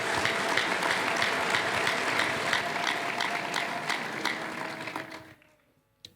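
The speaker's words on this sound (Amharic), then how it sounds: "መጀመሪያ አጨብጭቡልኝ እስቲ" A church congregation applauds at a healing testimony service, a dense, sustained round of clapping that holds steady for several seconds, then thins and fades out into near silence.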